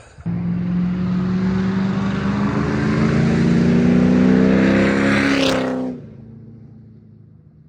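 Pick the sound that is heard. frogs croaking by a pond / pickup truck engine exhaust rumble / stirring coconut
pickup truck engine exhaust rumble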